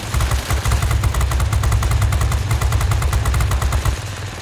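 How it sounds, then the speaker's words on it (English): Rapid, continuous minigun fire from a Soviet I-207/4 warplane in the World of Warplanes game, a loud dense rattling burst that runs for about four seconds before cutting off. "Glorious Soviet miniguns!"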